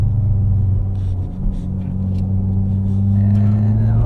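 A Mitsubishi Lancer Evo X engine on a dyno drones loud and steady in a low gear, its pitch climbing slightly as it pulls, heard up close.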